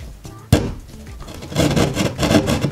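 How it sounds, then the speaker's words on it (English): A saw rasps through drywall along marked lines for a TV wire opening, starting after a sharp tap and building into close, rhythmic cutting strokes. "Nice and easy, cut out the drywall along the lines."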